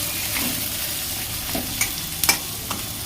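Chicken frying in a pan for a light curry gives a close, steady sizzle, broken by a few sharp scraping stirs of a spatula near the end.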